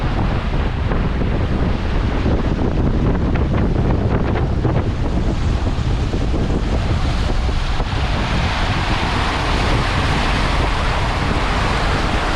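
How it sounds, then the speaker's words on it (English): Strong wind roars across open water aboard a wooden boat as big rollers build in a fast current. A loud, constant broadband rush buffets the microphone, with wave wash mixed in and no letup. "the wind came up and blew up quite quickly to some pretty big rollers"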